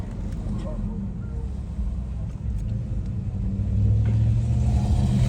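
A nice truck's engine rumbles low and steady on a street in Greenville, South Carolina, swelling louder toward the end as it revs, with people talking nearby.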